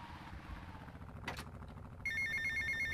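A phone ringing in the game GTA Vice City: a steady electronic ring begins partway through and sits over a low engine rumble and game noise.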